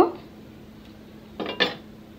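Prawn curry with potol and potato is served into a bowl, with a soft scrape and then two quick, close clinks of a ladle or spoon against the dish, alone and fairly quiet.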